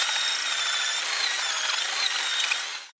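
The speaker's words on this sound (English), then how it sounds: "We're countersinking the bottom of the first vertical bar into the rock." A power drill countersinks a bolt hole into rock for a climbing route, a loud, continuous close-up grinding whine that stops abruptly at the end.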